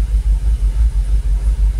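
A Jaguar XKR engine idles at about 700 RPM, close and steady with a deep low rumble that pulses in an even rhythm, no voices over it.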